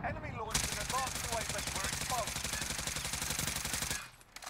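Rapid automatic AK-74U fire in Call of Duty Cold War, one continuous burst of dense rattling shots lasting about three and a half seconds, loud and close, with faint game effects underneath.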